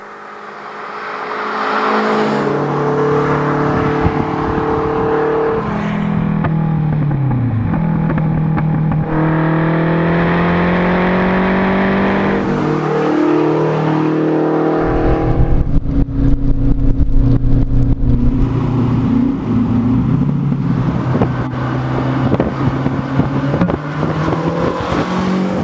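Renault 5 Turbo 2 engine running while driving, with sustained loud revving that rises and falls through gear changes, crackling and popping from the exhaust as the throttle lifts, heard close throughout.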